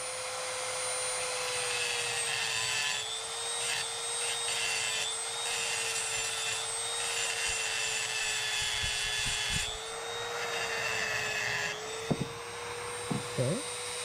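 A handheld Dremel rotary tool smooths a surface, holding a steady, close, high-pitched whine through the whole stretch, with a few brief scraping touches near the end.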